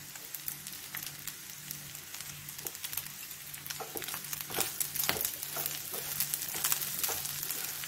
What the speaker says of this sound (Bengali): চালটা ভালো করে ভাজতে হবে।